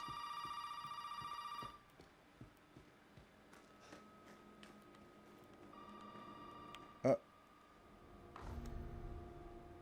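A telephone rings in bursts in the dim, quiet house of Resident Evil 7, a steady electronic tone that stops and is followed by soft footsteps, a sharp click and low rumble.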